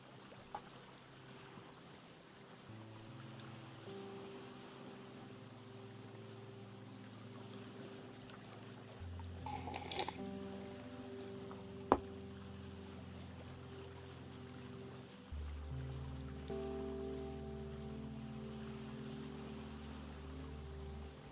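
A boat sails on water in Vintage Story, with a quiet, steady watery wash and soft droning tones throughout, a faint splash or two and a brief sharp tick midway.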